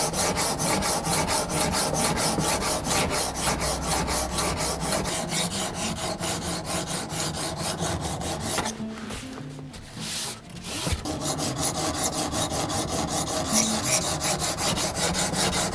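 A steel knife blade rubs back and forth on a diamond sharpening stone in steady, continuous scraping strokes, close and fairly loud, pausing briefly near the middle before resuming.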